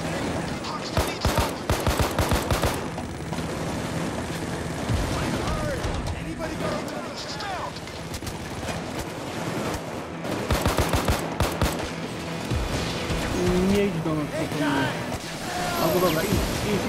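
An automated turret controlled by Kraus fires in Payday 2, rapid sustained bursts of gunfire rattling close and loud over chaotic combat, with players talking throughout.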